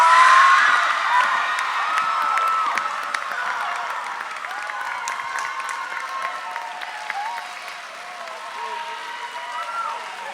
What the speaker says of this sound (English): Let's keep giving an applause for all these incredible teams